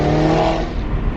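A BMW F80 M3 on the move, its engine note holding steady and loud under road noise for a brief moment, with no one talking.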